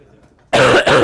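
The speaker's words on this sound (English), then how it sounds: "sorry for the coughing" After a moment of quiet, a person coughs loudly twice in quick succession, close by and harsh.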